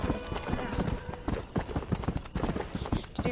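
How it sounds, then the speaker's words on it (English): Horse hooves clip-clop at a steady walking pace in Red Dead Redemption, a close and continuous rhythm with a voice talking over it. "It's a nice day to just stroll with the horse."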